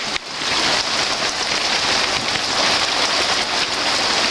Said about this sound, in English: And I like being inside when it's raining.